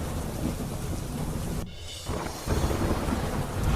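Monsoon rain pours steadily in Modasa and Dhansura, Aravalli district, Gujarat, a dense loud hiss broken by a brief dip before resuming heavier, with a low thunder rumble underneath.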